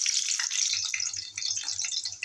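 Small onions and garlic frying in hot oil for a Tamil brinjal thokku, giving a steady close hiss and crackle of sizzling with light stirring scrapes throughout, no voices.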